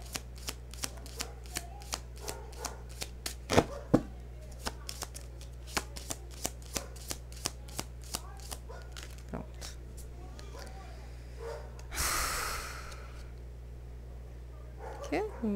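Tarot cards are shuffled close up in quick, regular riffling taps over a steady low hum, with a sharper flutter near the end and someone speaking at times.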